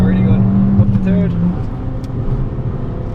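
A Fiat Abarth 500 at full throttle on the Mondello Park circuit, its engine droning loud and rising in pitch, then a gear change and steady pull, under a driver talking over it.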